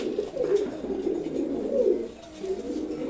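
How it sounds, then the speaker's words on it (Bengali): A pair of pigeons coo in a steady, throaty series of soft, rolling calls that repeat through the whole stretch, close by and moderately loud, with no voices. "অসাধারণ এক জোড়া কবুতর।"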